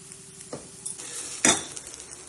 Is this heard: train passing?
no